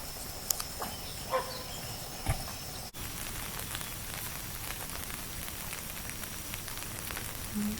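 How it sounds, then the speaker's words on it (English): Light morning rain falls steadily in the background at Stonelick Lake State Park, with a few isolated knocks and clicks near the start and a brief thump midway. "As you see, it's raining."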